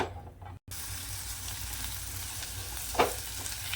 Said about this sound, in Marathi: आता ही एखाद दुसरा मिनिट आपण तेलावर चांगली परतून परतून घेऊया ही भेंडी